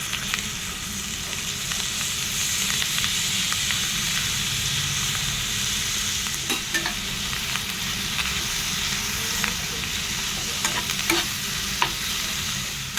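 Banana flower and fish roe frying together in a pan, a continuous steady sizzle with repeated scraping stirs and occasional clicks of the spatula.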